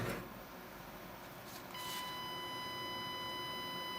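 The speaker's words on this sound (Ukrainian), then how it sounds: "Щось пищить." A steady high-pitched electronic beep starts partway through and holds as a continuous tone over a low background hum.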